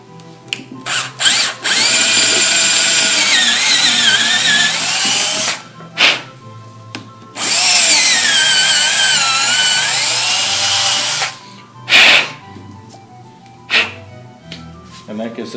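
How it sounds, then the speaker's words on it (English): A power drill bores out a hole in a wooden rocking chair, with two long loud whining bursts and several short blips between them, close up and with no talk over it. "so we can drill it out to fill that gap with a new dowel"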